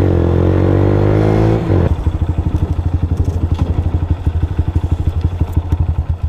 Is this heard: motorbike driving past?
yes